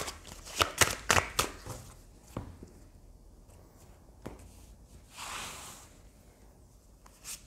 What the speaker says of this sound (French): Ensuite, je vais prendre 3 cartes du tarot Rider-Waite.